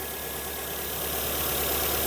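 A Mercedes W140 S350 engine idles steadily up close, a continuous even rumble with no other sounds.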